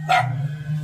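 A single short bark from one of several dogs being caught and put into cages, close and fairly loud over a steady electrical hum.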